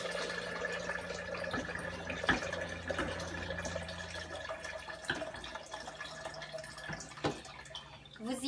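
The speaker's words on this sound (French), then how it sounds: "Je vais pomper mon eau pour remplir mon Vitamix." Purified water is pumped from a kitchen dispenser into a Vitamix blender jar, with a thin trickle and scattered drips and plinks. Faint pump clicks come and go over a quiet room.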